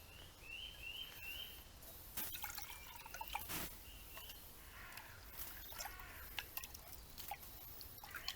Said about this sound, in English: The water is going to put out the rest of the ashes, and it's going to make it safe for when I leave.